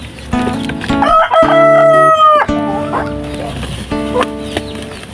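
A farm rooster crows loudly and close by several times, each call a long drawn-out cock-a-doodle-doo, with hens clucking in between and in the background.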